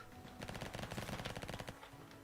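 Rapid automatic gunfire from a weapon in the video game Flag Wars, a fast, steady stream of shots held for over a second before stopping, moderately quiet and heard alone.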